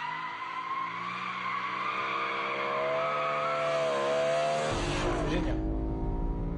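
Sports car engine, a BMW M3 or Mercedes C63 AMG, revving hard and climbing through the rev range, then a sharp shift to a deep rumbling roar with tire noise, loud and close with no talk.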